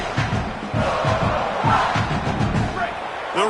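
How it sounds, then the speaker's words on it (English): A big college football stadium crowd, Penn State against South Carolina, roars in a sustained wave, loud and dense with shouts and cheering rising and falling throughout. "The roar of the crowd trying to fuel this defense to keep them pinned in their own end."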